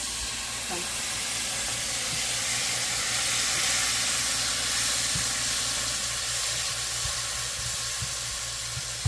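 Onions sizzling in a pan with masala, curry spices and hot peppers, a steady loud hiss and crackle with a low hum underneath, continuous throughout.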